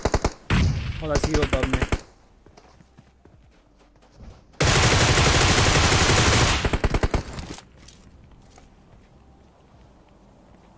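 Rapid automatic gunfire in a shooting video game, loud bursts of a fast firing rifle early on and a long sustained barrage midway, with a player talking briefly between volleys.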